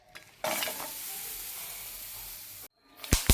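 Cut green chillies dropped onto a hot tawa burst into a loud, steady sizzle that holds for a couple of seconds, then cut out briefly before a few stirring scrapes and crackles return.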